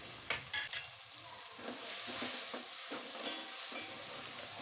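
Two native tomatoes sizzle and fry in a pan for a sundekai gravy, a steady bright crackle with a few stirring scrapes and clinks near the start, faint and alone.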